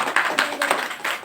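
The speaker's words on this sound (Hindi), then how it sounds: "एक जोरदार ताली अपने लिए बजाएं।" An audience at an RCM business meeting in Shivdaspur claps briefly, a short close burst of hand claps with a few sharp taps standing out.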